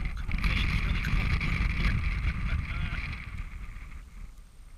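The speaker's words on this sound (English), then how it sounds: "It's a lot of wind." Strong wind gusting across an open frozen lake during ice fishing, a loud steady low roar buffeting close to the microphone that eases slightly toward the end, with no voices.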